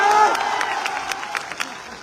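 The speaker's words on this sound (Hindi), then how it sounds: "इसके लिए जोरदार ताली बजाओ सब लोग।" Crowd clapping and cheering at an outdoor political rally in Kaimur, Bihar, a mix of scattered claps and raised voices, loudest at the start and then thinning out, with shouts rising above it.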